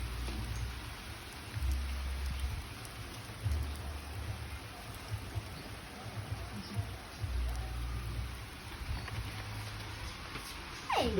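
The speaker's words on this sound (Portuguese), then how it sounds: "Chuva aqui no sítio" Rain falls steadily at a rural smallholding, a continuous soft hiss with occasional low thumps and a brief rise near the end, heard up close with no talk.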